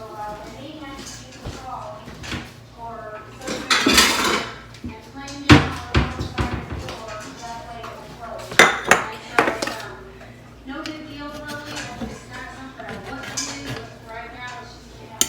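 A plate is taken out in a home kitchen where jiffy-mix cornbread was baked in a cast iron skillet, with sharp ceramic clinks and clatters rising in scattered bursts while a person talks.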